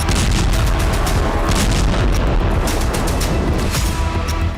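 Continuous rumbling blasts and cracking booms from a Russian ballistic missile strike on Kharkiv, Ukraine, dense and loud throughout with no pause and no voices.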